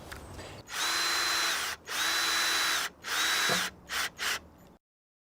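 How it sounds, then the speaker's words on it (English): Cordless power drill driving deck screws into raised garden bed boards: three sustained whirring runs of about a second each, then two short bursts, loud and close before cutting to silence. "Screw these in place using deck screws"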